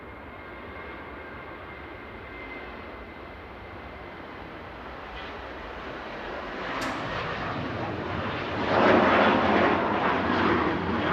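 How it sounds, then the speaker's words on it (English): A Ryanair Boeing 737-800 departs Manchester Airport for Shannon, its engine roar faint and distant at first, then swelling into a loud, broad rumble as the jet rolls down the runway. "Ryanair is rolling. Right now, 4776 to Shannon, 9HQBZ, 737-800 departing now."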